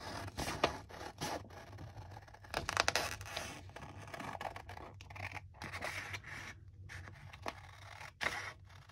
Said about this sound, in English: We're going to carefully try to cut it out.